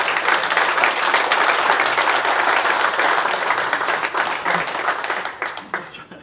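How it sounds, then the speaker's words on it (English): A crowd at a disc golf tournament awards ceremony gives a dense round of applause, loud and sustained before thinning out and fading near the end. "So everyone give Chuck another round of applause."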